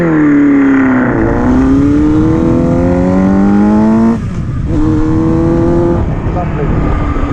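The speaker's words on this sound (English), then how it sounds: "So I've opened the baffle on the exhaust a bit more, it's going to be a bit louder." A Yamaha Fazer 600 motorcycle with its exhaust baffle opened up roars loudly and steadily, its engine note rising and falling through revs and then climbing again after a short dip.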